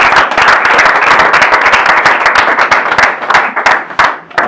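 A church wedding congregation bursts into loud, sustained applause, dense overlapping claps from a crowd nearby that thin out toward the end with a few scattered final claps.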